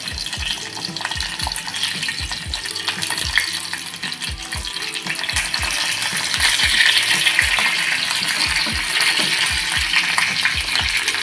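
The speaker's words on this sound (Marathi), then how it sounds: "आता भरलेली शिमला मिरची आपल्या याच्यामध्ये सोडून द्यायची।" Stuffed bell peppers fry loudly in hot oil with cumin seeds and curry leaves, giving a dense, continuous close-up sizzle with crackling pops and occasional thuds that grows slightly stronger partway through.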